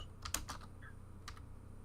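Typing on a computer keyboard during an online space weather discussion, a quick cluster of light clicking keystrokes followed by a pause and one more tap, close and clear over a steady low hum.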